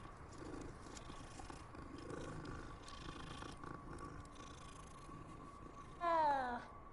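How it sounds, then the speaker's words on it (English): A cat in Hogwarts Legacy purrs softly beneath quiet game ambience, then gives one short, clear meow near the end. "Another cat."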